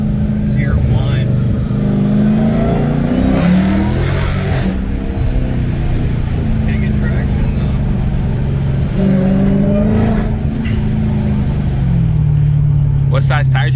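A Dodge Scat Pack 392 V8 with a mid delete and muffler delete and Mickey Thompson rear tires revs and whines with a steady loud exhaust drone that rises and falls, while people talk over it throughout.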